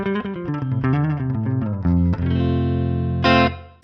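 Clean electric guitar runs through a Roland Jazz Chorus amp model on a Line 6 Pod Go, playing a bright, shimmering run of notes into ringing sustained chords with a final strummed accent, with no talk over it.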